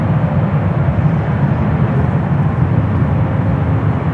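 A United airliner taxiing at San Francisco airport gives off a steady, loud, continuous engine rumble and roar that holds even throughout, with no talk.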